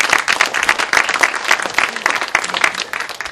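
Applause from a party caucus meeting audience fills the room, a dense, steady burst of many hands clapping at close range with no pause.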